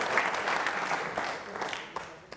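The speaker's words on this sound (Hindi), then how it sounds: "तालियां जोरों से बजाइए इनके लिए आप" Trainee state civil services officers at a quiz show give a round of applause, a dense, fairly loud patter of many hands that fades slightly toward the end.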